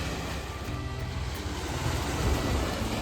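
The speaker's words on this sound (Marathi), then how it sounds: "समुद्राचा आवाज असा आहे" Steady wash of sea waves on the uncrowded beach at Velneshwar, a continuous low rumbling surf with a breezy hiss and no clear breaks, moderately loud and unbroken by talk.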